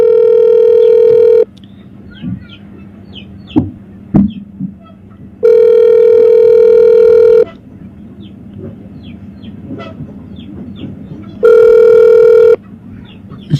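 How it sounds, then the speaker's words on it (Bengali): An outgoing phone call rings unanswered, with three long, loud, steady ringback tones separated by pauses, and faint birds and small background sounds audible in the gaps. "আচ্ছা, ফোনটা রিসিভ করছে না, দেখি আলাউদ্দিন জিহাদিকে আমরা লাইনে পাই কিন"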